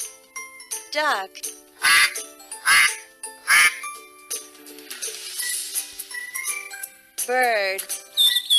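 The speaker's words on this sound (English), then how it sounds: "Duck." Cartoon duck quacking in repeated loud bursts over light jingling chimes in a children's educational puzzle game, with a voice speaking briefly.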